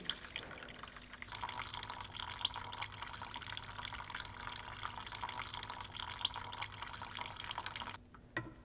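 Water trickles slowly through a narrow hose tube packed with paper, a steady soft dripping and pouring flow that carries on for several seconds before cutting off near the end.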